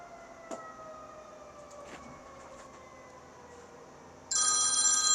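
A FaceTime video call rings out on a phone. Faint tonal beeps and a low background hum give way to a sudden loud, bright electronic ringtone near the end.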